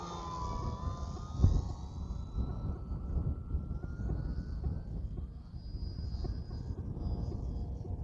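An E-Flite Piper Cherokee 1.3 m RC model airplane on a 3S battery flies at full throttle, its electric motor whining steadily at a distance over outdoor wind noise.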